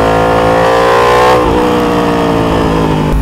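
A 2021 Yamaha R1M with an Akrapovic full exhaust screams at high speed, a loud, close engine wail that drops in pitch at a gear change and then holds steady.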